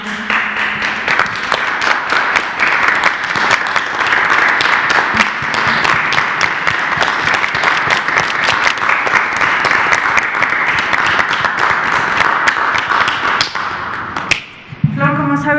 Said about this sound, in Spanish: damos un aplauso a manera de homenaje, un pequeñísimo homenaje, por supuesto, para todos los trabajadores de la salud